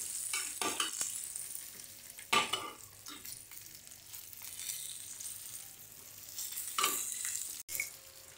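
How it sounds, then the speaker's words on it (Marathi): Stuffed bell peppers frying in a pan while being turned, a quiet sizzle under repeated scraping and clattering stirring strokes, close, without any talk. "मिरची आपण हलवून घेऊया"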